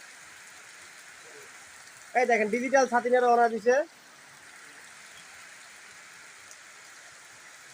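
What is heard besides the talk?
rain falling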